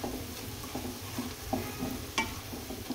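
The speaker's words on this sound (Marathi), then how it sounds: "व्यवस्थित मिक्स करून घ्यायचे मसाले. कांदा पण छान परतला आता." Spices being stirred into sautéed onion in a pan, with a low sizzle throughout and scattered scraping knocks of a spoon against the pan, close and steady, no talking.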